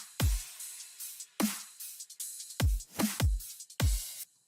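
A melodic dubstep drum pattern plays alone: sparse, punchy hits with deep kick thumps and crisp snare-like cracks, about six strikes spaced unevenly over a few seconds with gaps between.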